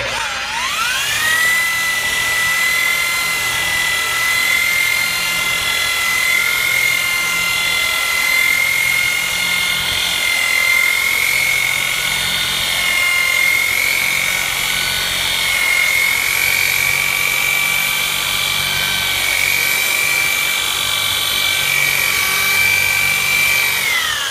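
A power polisher buffs scratches out of boat gelcoat, giving off a steady, loud, high-pitched whine that holds an even pitch for the whole stretch, with no talking over it.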